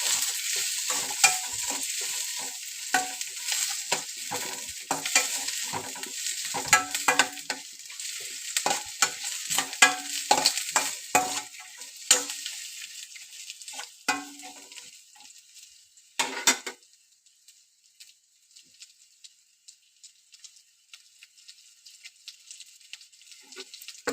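Green chilies and cashews sizzle and crackle in hot oil while a utensil scrapes and stirs around the pan, busy and close, then the frying quiets near the end.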